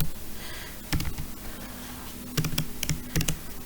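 Rapid clicking of a computer keyboard as code is typed, with clustered keystrokes in quick bursts and brief pauses, close and fairly loud with no talking.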